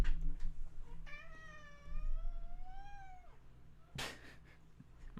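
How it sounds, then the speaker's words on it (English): A pet cat gives a single drawn-out meow close by in a quiet room, followed by a short burst of noise. "My cat just meowed at me."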